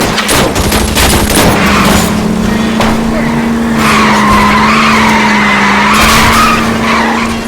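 Gunshots fired at a fleeing car's tires in LA Noire, amid a loud car chase: sharp shots crack over roaring engines and squealing tires, with a voice speaking partway through.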